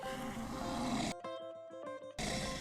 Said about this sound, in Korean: 사자 소리 같은 그런 게 나네요. 어렁 하면서 날라갑니다.